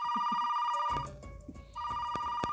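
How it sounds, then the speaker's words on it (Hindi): A telephone rings with a bright electronic tone in two sustained bursts, broken by a short gap of softer knocks. The ringing is close and clear, and no one speaks. "शायद मम्मी का ही फोन होगा।"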